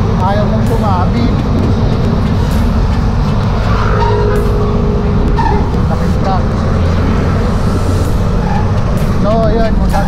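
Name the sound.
large truck turning on the road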